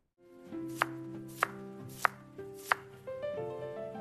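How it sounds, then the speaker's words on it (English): A kitchen knife julienning carrots strikes a cutting board four times at a steady, spaced rhythm, sharp close knocks over a sustained tonal backing with no voice. "I am julienning the carrots."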